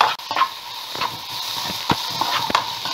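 Noodle ingredients, with prawns just taken out, hiss and sizzle steadily in a hot pan while a utensil scrapes and taps at intervals.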